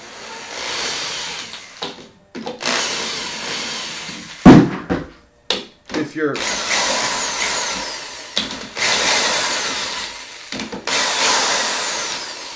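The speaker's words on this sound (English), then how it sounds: "I'm going to actually just do this with my power drill." A power drill winds strings on an acoustic guitar in repeated whirring bursts, each a few seconds long and separated by brief gaps and handling clicks; one short spoken word interrupts.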